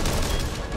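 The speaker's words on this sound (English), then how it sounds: "They're just gonna keep bombarding with the explosions." Dense, continuous rumble of game explosions and rapid gunfire, loud and unbroken throughout the short burst.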